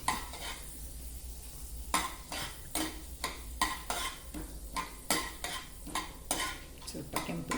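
Chana dal frying in hot oil for a tempering, with a steady close sizzle and a spoon scraping and clinking against the pan in repeated strokes, no voices.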